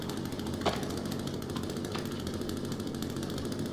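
An idling chainsaw in The Forest runs as a steady, faint, low engine rumble, with a couple of brief sharp clicks over the drone.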